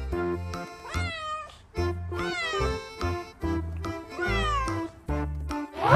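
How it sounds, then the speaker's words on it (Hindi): A domestic cat meows repeatedly and loudly, close up, with several drawn-out rising and falling calls in steady succession and no talking. "ये है बिल्ली, और बिल्ली को इंग्लिश में कहा जाता है कैट"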